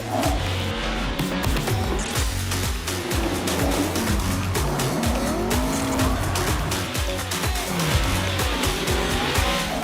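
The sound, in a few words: drift car tire squealing on track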